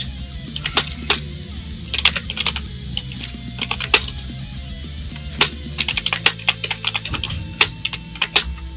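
Fast typing on a computer keyboard during an online tabletop role-playing session, with close, bright key clatters coming in uneven bursts and brief pauses over a low background hum.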